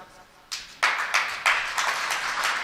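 Audience clapping breaks out during a Jain sermon, a burst of hand claps swelling in several waves of sharp, moderately loud applause from a hall crowd, with no talking over it.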